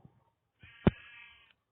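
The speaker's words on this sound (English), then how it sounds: "The sheep escaped." A sheep in a Minecraft-style crafting game gives a single nasal bleat, close and clear after a couple of faint soft taps, with no talking.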